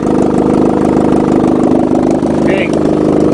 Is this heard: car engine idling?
yes